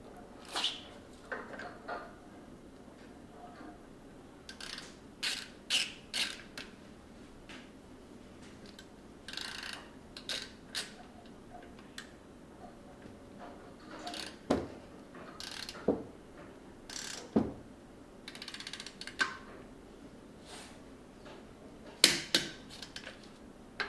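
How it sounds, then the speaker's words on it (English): Torque wrench clicking and ratcheting on the lug nuts of a Toyota GR Supra, set to 105 foot-pounds: a long run of scattered sharp ticks and clicks in irregular bursts, close by and moderately loud, with no talking. "now we're going to go ahead and torque everything down, and these get torqued at 105 foot-pounds"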